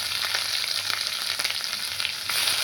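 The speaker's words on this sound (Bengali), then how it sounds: "ভালো করে নাড়বো একটু।" Tomatoes fry with amaranth greens for a vegetarian chorchori, a close, steady crackling sizzle broken by quick stirring scrapes, with no voices.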